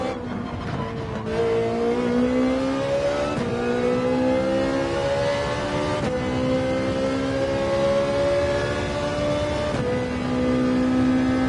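A race car in Gran Turismo 7 revs steadily and climbs through repeated gear shifts, its engine note rising and dropping again several times, loud and close, with no voices over it.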